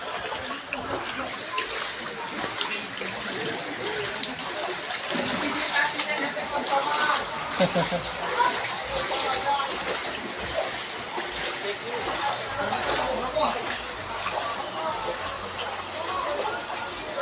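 Floodwater pours through submerged streets and alleys in Barangay Talaba 2, Bacoor, Cavite, with steady flowing, sloshing and splashing close by, while a voice talks intermittently over the rushing water.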